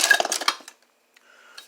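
A big metal wrench pulled from a welding tool bag clanks and rattles against other tools in a short metallic burst, then a pause and a faint clink near the end.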